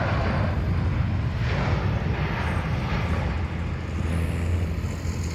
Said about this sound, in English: Malaysia Airlines landing at Kuala Lumpur International Airport.